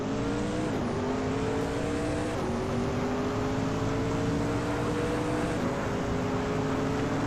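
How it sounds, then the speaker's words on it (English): Race cars in a racing video game launch from the start at Chang Track, with an Audi R8 LMP 900 car on pole. Loud, continuous engine drones climb in pitch through several gear shifts, with no voices. "the race kicks off at Chang Track, and Anonymous Ninity 3 is leading the pack"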